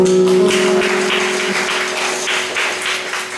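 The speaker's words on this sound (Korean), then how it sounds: "하나님께 영광의 박수 드립니다" A church congregation at a Sunday service claps together in steady applause under a lingering organ or keyboard chord that fades after about a second and a half, the clapping continuing evenly and fairly loud.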